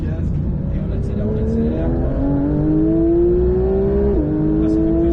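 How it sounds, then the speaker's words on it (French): A Porsche 911 992 GT3 accelerates hard on the Mettet race track, its engine climbing steadily in pitch through a gear with a brief dip at the shift, loud and close throughout while a voice talks over it. "Allez, reprends les gaz. Et on accélère."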